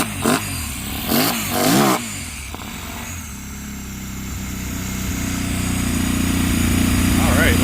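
A repossessed CFMOTO 800 engine runs while warming up, starting with a few loud mechanical clatters and bursts, then settling into a steady rough idle that grows gradually louder and fuller near the end.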